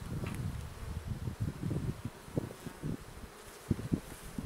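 Honeybee colony buzzing faintly during a spring hive inspection, soft irregular buzzes and rustling near the microphone, quiet and patchy.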